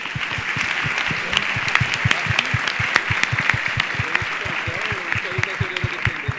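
A lecture audience gives loud, sustained applause, dense clapping filling the room steadily for several seconds.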